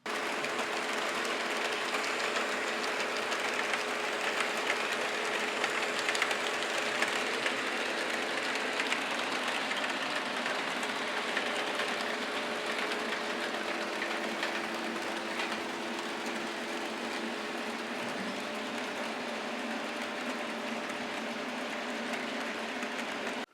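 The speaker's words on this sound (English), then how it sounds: "please enjoy this footage of the channel owner's model railroad layout" Model railroad trains running steadily on a home layout, a continuous mechanical rumble and rail clatter with faint clicking wheels, fairly close and even in level throughout, with no voices.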